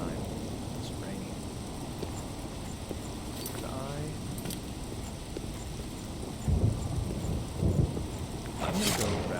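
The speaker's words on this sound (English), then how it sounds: "It's raining." Steady rain falls in the fantasy game Elder Scrolls IV: Oblivion, a continuous broadband hiss with a few louder rumbling swells toward the end.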